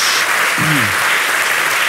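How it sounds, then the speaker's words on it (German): A TV studio audience at a darts segment breaks into loud, sustained applause, a thick even roar of clapping with a brief low vocal sound rising over it. "Sehr gut, sehr Applaus."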